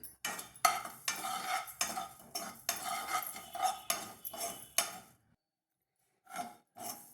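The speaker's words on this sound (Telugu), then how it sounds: "2 స్పూన్లు ధనియాలు, వీటిని లైట్గా దోరగా వేపుకోవాలండి." Coriander seeds are dry-roasted in a pan and stirred with a spoon, giving close, rattling scrapes in a steady run of strokes that stops abruptly, then a couple of brief scrapes after a pause.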